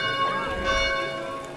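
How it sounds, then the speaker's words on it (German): Bell ringing in the city-building survival game Farthest Frontier, a sustained, loud metallic toll with long ringing overtones that fades slowly over a second and a half. "die Glocke ist laut, aber ist jetzt so"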